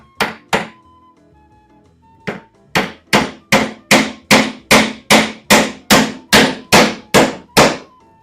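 Hand hammer driving nails into pallet wood while building an apple crate with hand tools: two blows, a pause, then a steady run of about a dozen sharp, loud, evenly spaced strikes close up.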